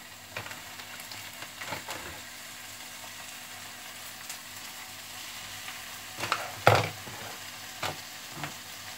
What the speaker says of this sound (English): Let your bacon cook away.